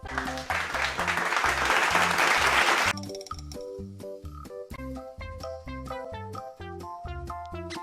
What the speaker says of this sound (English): clapping your hands